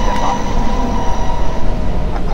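A Berlin U7 subway train in World of Subways 2 rolls into Jakob-Kaiser-Platz station with a steady, close rumble of wheels and motor hum, continuous and unbroken, with no talking.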